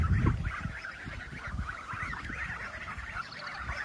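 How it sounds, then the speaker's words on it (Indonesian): Geese honk repeatedly in a close, busy flock outdoors on an Eastern European village farm, their calls steady and overlapping throughout with some wind noise underneath. "Nih kebetulan di sini ada angsa."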